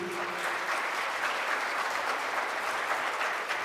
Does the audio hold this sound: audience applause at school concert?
yes